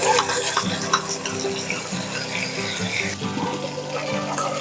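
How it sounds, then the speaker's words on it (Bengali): Water runs steadily from a kitchen tap into a sink while fish curry with bottle gourd is being cooked, a continuous close splashing wash with faint clatter underneath, no talking. "সামান্য একটু জল দিয়ে ধুয়ে দেবো"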